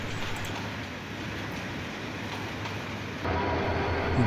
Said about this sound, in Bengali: তারাকান্দি থেকে ঢাকা অভিমুখে আসা এই যমুনা এক্সপ্রেস ট্রেনটি 3 নম্বর প্ল্যাটফর্মে প্রবেশ করছে।